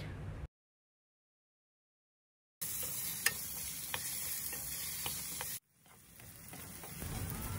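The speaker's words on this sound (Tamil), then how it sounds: "எண்ணெய் சூடானதுக்கப்புறம் கழுவி வச்ச பூண்டை வந்து நம்ம எண்ணெயில் போட்டு நல்லா வதக்கிக்கணும்" Garlic sautés in hot oil for a garlic pickle, a steady frying sizzle with occasional stirring clicks, split by a stretch of complete silence and a later abrupt cut.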